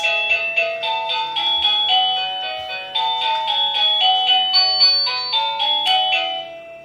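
A doorbell is played with repeatedly, ringing out a run of bright, melodic chime tones one after another at moderate volume, with no voices.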